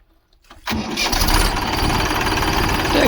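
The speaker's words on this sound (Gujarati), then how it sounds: "ટ્રેક્ટર કઈ નાખ્યો છે ચાલુ." A tractor engine cranks and catches on a farm field set for sowing summer white sesame, the starter whir giving way to a loud, steady, rumbling idle close by.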